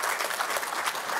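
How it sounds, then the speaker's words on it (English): A banquet audience applauds newly named Hall of Fame members, a dense, continuous wash of clapping filling the room at steady volume for a brief moment. "A round of applause, please"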